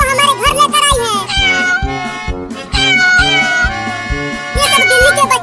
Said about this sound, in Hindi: बिल्ली अपने सभी बच्चों को हमारे घर लेकर आई है